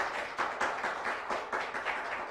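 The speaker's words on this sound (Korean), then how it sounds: "좋은 발제를 해주신 김보라 시장님께 다시 한번 큰 박수 부탁드립니다" An assembly audience claps together, a dense sustained round of applause with overlapping hand claps rising and falling in steady waves, moderately loud and without speech.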